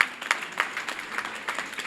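Audience applause breaks out at a Linguère Math and Damel Math 2022 ceremony at the IEF in Thiès, a dense, even wash of many hands clapping at moderate distance for just under two seconds.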